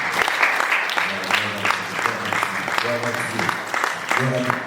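A church congregation claps together, a dense burst of applause mixed with voices calling out and a person speaking over the clapping throughout.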